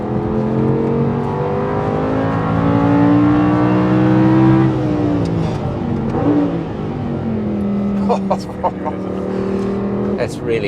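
Audi R8 LMX V10 engine revving while driving on the road, a loud smooth multi-tone howl climbing steadily through the revs, then easing off with a gear change and lighter throttle.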